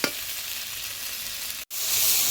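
Ingredients stir-fried in a pan for a Bengali dish of pui greens and rohu fish, giving a steady loud sizzle with scraping stirs and a brief cut of silence near the end.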